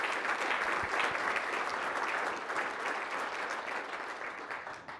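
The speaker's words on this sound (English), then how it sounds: "if you get a round of applause for all of our great sponsors" Audience applause for the sponsors at the 2019 MICHauto annual event, a steady dense clapping that fills the room, loud throughout and easing slightly toward the end.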